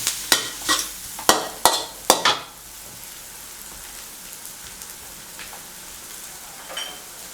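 Bitter melon and egg stir-fried in a wok over a home stove: several sharp scraping strokes of the spatula near the start, then a low steady sizzle and faint clinks.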